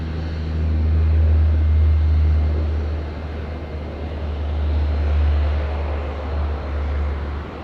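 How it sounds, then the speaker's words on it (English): A Dash 8 turboprop airliner begins its takeoff roll on runway 23 at Auckland Airport, its steady engine drone loud and heard from a distance, swelling and easing slightly as it moves. "The Dash 8 rolling now"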